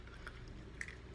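Almonds being chewed close up, with soft crunching and squishy bites at a steady pace and one sharper crunch near the end, no talking over it.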